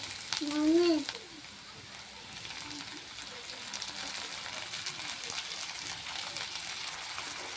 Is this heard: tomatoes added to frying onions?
yes